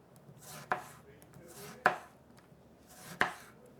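A knife cuts straight down through citrus fruit on a table in three separate sharp chops spaced about a second apart, each a crisp close thud with a short juicy slice before it, in a quiet room.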